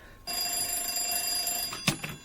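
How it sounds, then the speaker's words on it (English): An old-fashioned telephone bell rings in a radio drama, one long, steady, fairly close trill that cuts off, followed by a brief clack like the receiver being lifted. "not answering the phone?"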